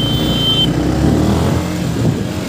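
A Yamaha MT-15 V3 motorcycle is pulled out at a petrol pump and ridden off, its engine rumbling loudly and steadily up close, with a brief high whine at the start and no talk.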